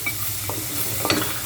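Vegetables stir-fried for Japanese fried rice in a hot pan sizzle steadily, with a few quick scraping stirs of a utensil against the metal, close and continuous with no talking.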